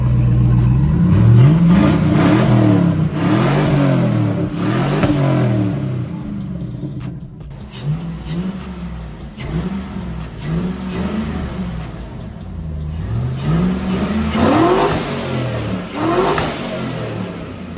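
Chevrolet Suburban with an exhaust dump open, its engine revved repeatedly in loud rising and falling bursts, each rev followed by a burbling drop back to idle.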